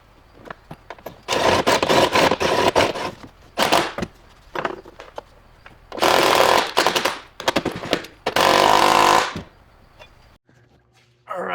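An impact wrench driving seat belt bolts into a Jeepster, several loud rattling bursts of one to two seconds with pauses and small handling clatter between them, close up.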